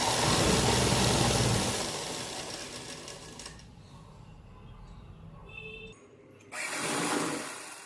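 Sewing machine stitching salwar fabric, running in a loud steady whir for about three seconds, easing off to faint rattles and a brief stop, then starting again near the end.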